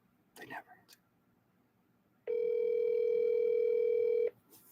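Outgoing call ringback on a mobile phone: one steady two-second electronic ring tone, loud and clear, following a brief murmur of voices.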